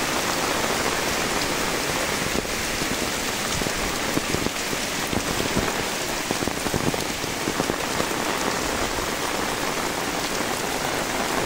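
Torrential rain falls on waterlogged rice fields in Dinajpur's Kaharol area, a loud, unbroken wash of drops striking standing water that fills the whole clip with no speech.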